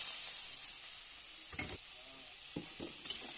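Greens drop into hot oil with two dried red chillies and set off a steady hiss, with a few sharp spatula strokes and bursts of crackle close by.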